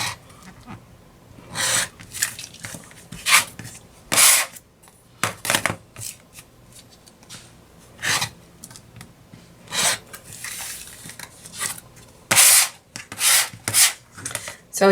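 Quilt blocks are trimmed to 3.5 inches against a Bloc Loc ruler, heard as a dozen or so short, sharp scraping cuts spaced irregularly over otherwise quiet room tone.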